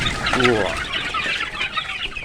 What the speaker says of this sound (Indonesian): lihatlah keberingasan ayam ini langsung menggerumuti olahan pakan racikan kita